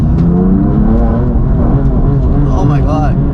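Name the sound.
BMW M4 DTM Champion Edition engine revving under throttle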